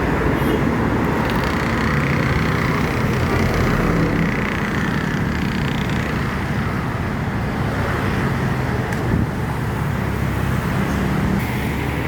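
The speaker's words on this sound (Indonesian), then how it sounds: "Ada truk Simba Surya, truk kontainer tronton." A container tractor-trailer truck passes on a highway in Sumatra, heard inside a roaring bus, its rumble blending into continuous loud, broadband road and tyre noise with no quiet gaps.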